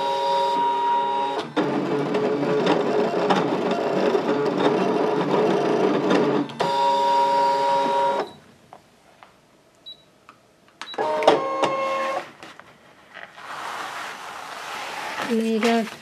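A Brother ScanNCut machine cutting paper or fabric gives long mechanical whirring and buzzing passes, loud and close, broken by quiet pauses and short servo bursts.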